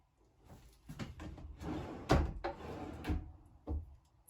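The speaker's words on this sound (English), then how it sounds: "Soft close on the drawers again." Soft-close drawers in a luxury 2021 Vanleigh Beacon 41FLB RV bathroom slide and settle with a series of muffled wooden bumps and thuds, several soft impacts spread across a few seconds, close by with no talking.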